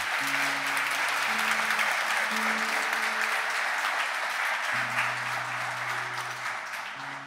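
A church congregation applauds steadily, a dense even patter of clapping that fades slightly toward the end, while sustained keyboard chords play underneath.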